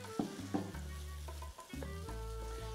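A spoon stirs berkoukes, large pearl pasta cooked risotto-style, in a hot pan, with a steady sizzle and soft scraping strokes at close range, no talking.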